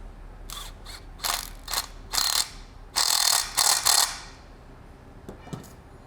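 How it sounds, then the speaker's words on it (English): Impact wrench loosening the left-hand-thread saw nut on a Jarvis 404 electric reciprocating breaking saw: a series of loud, close rattling hammer bursts of varying length, then a few faint clicks as it falls quiet. "Now I'm going to hit it with the impact"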